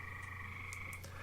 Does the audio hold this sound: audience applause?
no